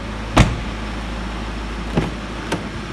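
Electric window on a 2L diesel Ford Mondeo Mk5 operating with a faint motor hum, punctuated by a few short clicks or thumps near the door.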